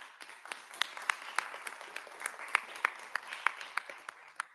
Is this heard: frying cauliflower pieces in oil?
no